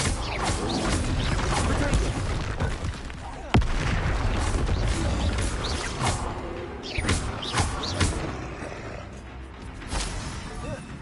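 Confringo and Bombarda spells explode during a Hogwarts Legacy fight: repeated thuds and sharp blasts land over a continuous busy game din, one especially hard crack near the middle, with mechanical clatter between hits.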